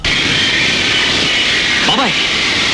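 An airplane passes overhead with a loud, steady broadband roar that fills the whole clip; a brief voice-like sound cuts through near the end.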